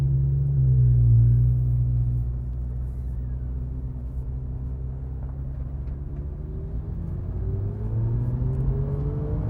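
A Porsche 991 GT3 fitted with Dundon Motorsport exhaust and headers cruises gently through a neighborhood with its valves closed, a deep, steady engine drone rising and falling slightly with throttle, heard from inside the car.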